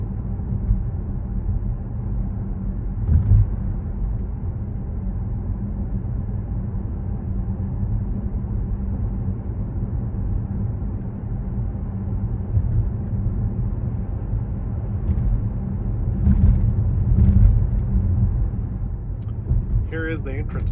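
Car driving along the Blue Ridge Parkway, continuous low road and engine rumble heard from inside the cabin, with a few faint knocks and bumps and occasional higher-pitched noises near the end.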